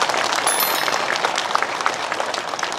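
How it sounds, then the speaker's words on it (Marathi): Audience applause at a public gathering in Maharashtra, a dense burst of clapping from a crowd lasting a few seconds. "त्यांच्यासाठी दोघांसाठी एकदा टाळ्या वाजवा जोरदार"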